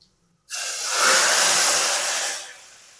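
Cumin and red chillies dropped into hot oil for a dal tadka burst into a loud, close sizzling hiss that swells after a silent start, holds for about two seconds, then fades.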